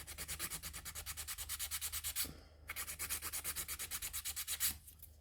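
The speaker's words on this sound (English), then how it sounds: "I'll do a quick file on camera so you can see how I do my filing" A nail file rasps rapidly back and forth across acrylic nails in quick rhythmic strokes, close and soft, with a brief pause midway before the filing resumes.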